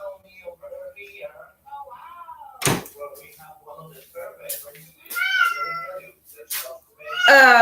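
Several house cats meow repeatedly at close range, their cries rising and falling amid loud thumps like a door knocking or slamming, with a person talking intermittently throughout.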